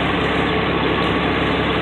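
Ford L9000 truck with a Cat 3176 diesel engine and an air starter, idling with a steady, close, low rumbling drone and no variation.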